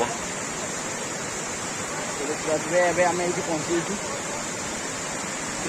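A waterfall on a hillside at a scenic spot makes a steady, rushing roar of falling water throughout, with someone speaking briefly over it near the middle.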